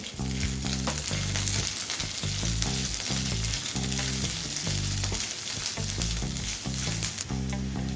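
Two medium onions, cut into big chunks, fry lightly in oil for a Bengali pepper chicken curry, giving a loud, steady close sizzle with stirring throughout and no voices.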